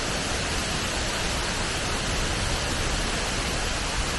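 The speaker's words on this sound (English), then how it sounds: "Water going through down there. It is loud." Water rushes loudly past a dam barrier blocked with plywood in northern New Hampshire's Connecticut Lakes area, a dense, steady, broadband roar with no breaks and no voices.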